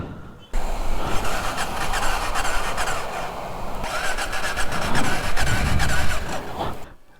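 A stalled motorcycle at a gas station in Chimbote, Peru, being started: loud, close, continuous engine cranking and revving lasting several seconds before cutting off abruptly.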